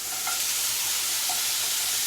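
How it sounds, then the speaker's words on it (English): Peaches sizzling in a hot skillet for peach cobbler, a loud steady close hiss of frying with a couple of faint soft clinks, no voices. "Put it in a hot skillet."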